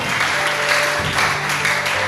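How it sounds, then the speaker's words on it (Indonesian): A church congregation claps for Jesus during a sermon, a loud, continuous mass of clapping over a low sustained musical tone. "Yang percaya tepuk tangan yang terbaik bagi Yesus kita."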